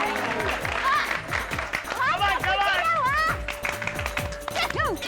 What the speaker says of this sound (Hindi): बस भाई कितने ताली बजाएगी